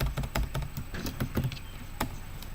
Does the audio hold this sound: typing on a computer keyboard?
yes